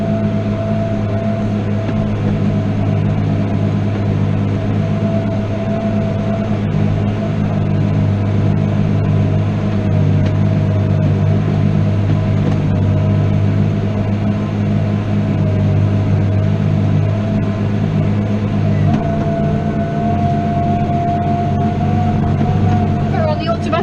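A tractor engine drones steadily from inside the cab during ploughing, a constant low rumble with a slight pitch change near the end as the gearbox shifts up, with no speech.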